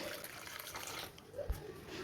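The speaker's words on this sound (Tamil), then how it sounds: "இதில் 1 ஸ்பூன் அளவுக்கு சப்ஜா சீட்ஸ் எடுத்துக்கிறேன். தண்ணி ஊற்றிக்கலாம்." Water is poured into a small bowl holding a spoonful of sabja (basil) seeds, a brief, soft, close splashing trickle against a quiet kitchen background.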